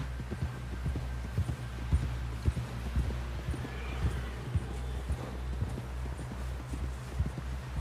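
Rhythmic clip-clopping hooves of a horse at a walking pace in the video game Red Dead Redemption 2, steady and close over a low rumbling background hum.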